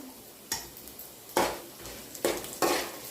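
Mustard seeds go into hot oil for a raw mango pulihora tempering, giving four short, sharp crackling bursts over a quiet background.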